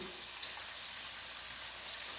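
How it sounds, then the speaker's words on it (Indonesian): Crispy chicken satay pieces frying in oil over high heat, a steady bright hiss and sizzle that stays even throughout with no voices. "Terus kita goreng dengan api yang besar dulu."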